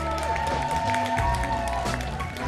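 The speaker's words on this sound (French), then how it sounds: "Je vous laisse les applaudir." An audience applauds guests arriving at a conference talk, with scattered clapping mixed with music and crowd bustle, fairly loud and continuous over a couple of seconds.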